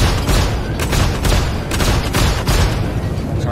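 Dense, continuous barrage of gunfire and booming impacts pounding a spaceship's shields during a space flight combat game, loud and sustained with no pauses.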